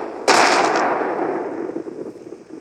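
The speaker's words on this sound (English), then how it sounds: "So you twist and you fire." A single sharp gunshot from a mobile shooter video game cracks loudly, close and alone, then trails off in a long fading reverberant tail.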